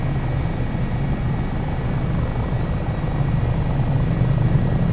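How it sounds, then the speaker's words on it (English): Eurocopter HH-65 Dolphin helicopter in flight in MSFS 2024 on a coast guard approach at Valdez, Alaska: a steady, loud, close rotor and turbine drone with a low throbbing base, holding even for the whole stretch with no voices. "You think you've got the helicopter nicely set up on an approach"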